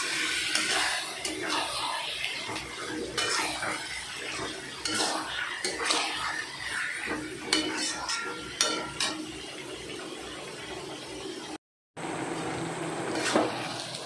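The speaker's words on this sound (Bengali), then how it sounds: "এবারে আমি মাখানো চিকেনটাকে দিয়ে দিলাম। এবারে এটাকে ভালো করে কষবো" Marinated chicken with spices stir-fried in a pan gives a steady sizzle and frying hiss, broken by repeated scraping and clinking of a spatula against metal, near and continuous apart from a brief gap.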